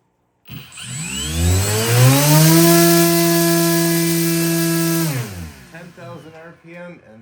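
A small RC electric motor spins a clipped two-blade 8mm 3D printed folding propeller, winding up to a loud steady high whine for a few seconds, then spooling down, with voices following.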